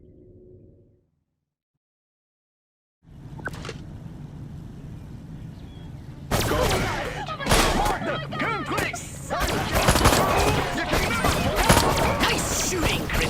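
Disintegrator ray blasts fired at Santa Modesta police in Destroy All Humans, opening after a near-silent gap, then growing into dense, loud bursts of zapping and impacts with rumbling chaos underneath.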